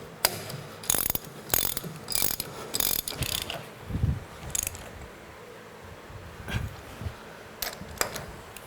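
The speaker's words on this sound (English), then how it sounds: "let me go ahead and tighten these 4 bolts up," A hand ratchet tightens four bolts on a LeBlond lathe's quick change gear box, giving bursts of crisp clicking strokes in an irregular rhythm, close and fairly quiet, with no talk.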